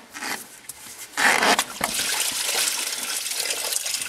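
Coolant gushes and splashes out of a detached radiator hose on a Jeep Liberty, a fairly close, steady watery rush with a louder surge early on and no talk over it.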